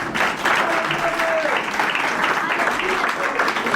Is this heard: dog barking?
no